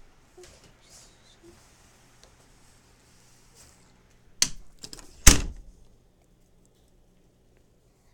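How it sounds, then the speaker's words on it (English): A door is shut: two sharp, loud thuds land close together midway through, with faint voices and small noises in an otherwise quiet room. "Okay, I shut the door."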